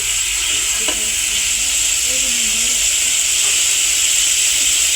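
Onions and spices for masoor dal bhuna sizzle steadily in hot oil while being sautéed, a loud close hiss that holds constant, with a couple of soft stirring knocks and a faint voice beneath.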